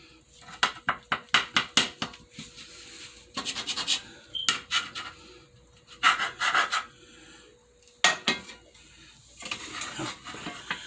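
Knife or spatula cutting into a beef tamale pie in a dish, a series of quick scraping, clinking strokes against the pan, close and fairly quiet with short pauses between bursts.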